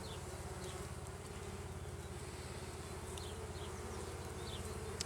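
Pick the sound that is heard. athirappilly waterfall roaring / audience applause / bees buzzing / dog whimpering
bees buzzing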